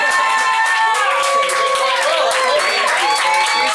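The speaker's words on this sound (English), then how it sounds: "John, everybody, give him a round of applause" Audience at an anti-comedy show applauding and cheering for comedian John Osbron, a dense continuous wash of clapping and crowd noise lasting several seconds with some voices mixed in.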